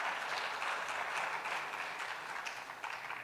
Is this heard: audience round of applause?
yes